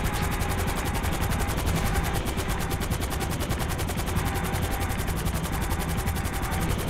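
A damaged, smoking helicopter in Grand Theft Auto V flies with a loud, dense, steady rotor chop and a rapid rhythmic beating over a heavy roar, continuous and close.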